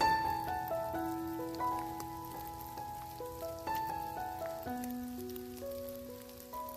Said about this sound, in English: this rain is just making the snow go away so quick